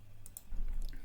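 Computer mouse clicks at a desk, a few sharp, quiet taps near the start and again toward the end, with low room hum beneath and no talking.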